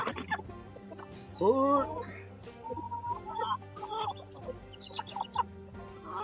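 Roosters and hens cluck close by in a backyard flock, irregular overlapping calls with one louder squawk, while a person briefly speaks.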